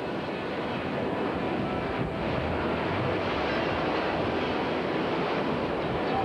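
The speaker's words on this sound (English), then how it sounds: "On a warm summer afternoon, the fountain displays the characteristics of a classic fountain-type geyser." Fountain Geyser erupting in Yellowstone on a warm summer afternoon, heard as a steady, dense broadband rush of water and spray with a wind-like roar, continuous and fairly loud throughout, no voices.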